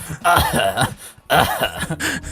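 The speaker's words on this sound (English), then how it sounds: "Smoker's cough" Two harsh, raspy coughing fits, close and loud, each a burst of rough hacking with a short pause between them.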